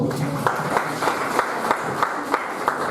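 Applause at a vegan chef cooking championship: a steady wash of many hands clapping, with sharper individual claps standing out at regular intervals, while voices carry on underneath.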